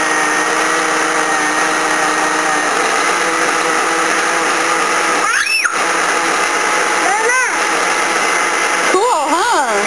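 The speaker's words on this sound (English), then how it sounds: "It's blending it all up together." A kitchen blender runs continuously, whirring loud and close as it blends food, while voices talk over it with rising excited tones.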